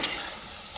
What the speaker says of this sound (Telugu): మంచిగా డీప్ ఫ్రై అవుతాయి.